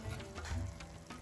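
Dry spice masala hitting fried tomatoes in a pan for a Konkani fish curry, giving a brief, faint sizzle with a soft low rumble of stirring, heard close and alone.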